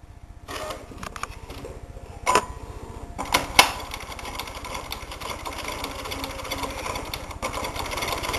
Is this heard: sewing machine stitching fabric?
yes